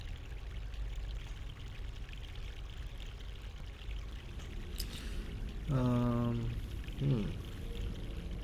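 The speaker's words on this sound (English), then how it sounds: "Fresh mountain water." Steady broadband water rush from a flowing mountain stream in The Longest Journey video game plays continuously, with a brief murmured voice near the end.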